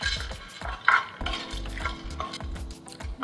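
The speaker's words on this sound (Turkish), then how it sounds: "dolmalık fıstıklarımızı biraz kavuracağız" Pine nuts roast in olive oil in a pan, crackling and sizzling up close while a spoon stirs and scrapes them around the metal in busy, uneven strokes.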